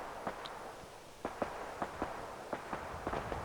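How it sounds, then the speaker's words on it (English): Gun turrets firing inside a shop in Fallout 4: a run of muffled, mid-distance pops and bursts in irregular rhythm over a steady game ambience, with no talk. "he's attracting all the fire from these gun turrets and the synths which are in this shop"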